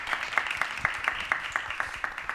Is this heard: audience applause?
yes